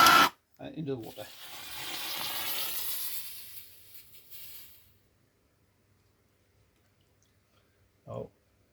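Hot steel for a Ford Escort MK1 transfer screw plunged into water, giving a loud hissing sizzle that fades over a few seconds, followed by quiet and one brief clunk near the end.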